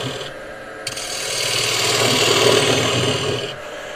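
A turning tool scrapes while hollowing out a piece of wood on a lathe, a close, continuous abrasive rasp that builds in intensity midway and holds steady for a few seconds.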